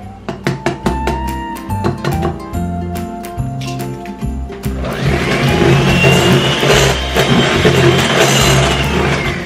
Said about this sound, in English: I'm going to beat that on low speed till they're creamed